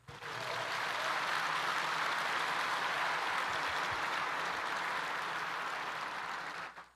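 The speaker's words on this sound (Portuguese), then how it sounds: "Dá um aplauso ao Senhor." A church congregation at a conference applauds the Lord with a dense, steady wash of clapping. It swells in quickly, holds evenly for several seconds and then cuts off.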